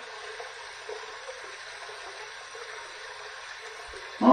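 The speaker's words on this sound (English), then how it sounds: "we're going to run this under some cold water" Cold tap water runs steadily while a safety razor is rinsed under it, a soft continuous splashing hiss heard close and alone for several seconds.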